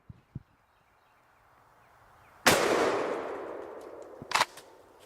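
A Keltec KS7 bullpup shotgun fires a single loud, sharp blast that rings and decays over a couple of seconds, followed by a quick metallic clack and a few faint clicks.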